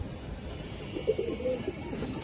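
Pigeons with heavily feathered, muffed feet coo softly: a brief, faint low murmur rising midway over a quiet room background.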